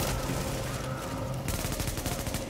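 In the video game The Division, gunfire rattles in dense, rapid bursts, with sharp repeated shots that run almost continuously and grow heavier toward the end.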